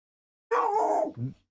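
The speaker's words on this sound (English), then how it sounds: "Looking after my dogs right now. So they're a little rowdy." Dogs barking and yipping in one short rowdy burst close to the microphone, a sustained yelping cry followed by a brief lower bark, alone with no talk.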